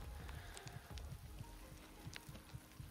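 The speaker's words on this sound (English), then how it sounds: "No, it's definitely raining" Rain falls steadily outdoors at an off-grid treehouse build, a faint continuous patter with scattered soft drips and no voices.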